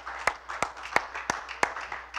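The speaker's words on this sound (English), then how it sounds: "Give him a hand clap this morning." A church congregation claps during a Sunday service, six or so sharp hand claps in a slow, even rhythm over a faint room murmur.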